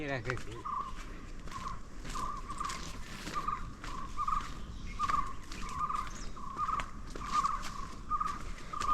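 A forest bird known locally as kutrukki calls from a hillside, its short bright notes repeating at a steady rhythm over a steady wash of ambient forest noise, with faint talk underneath.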